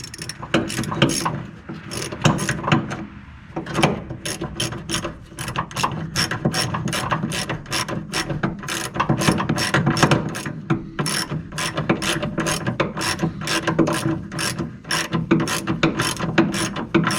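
A ratchet clicks in quick, steady runs as it tightens the nut on a shock absorber with rubber grommet, washer and lock washer on a 1966 Ford Mustang, close and loud with brief pauses between strokes.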